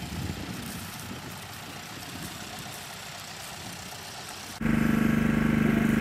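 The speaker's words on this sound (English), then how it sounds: "I've got a generator in the background" A generator runs steadily in the background at a Friends of Ferguson vintage tractor event, a continuous low engine drone that jumps to a louder, harsher hum partway through, with no talk.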